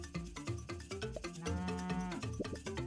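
In the video game Super Auto Pets, a cartoon cow gives a long mooing call over the game's bouncy background music, loud and in the foreground.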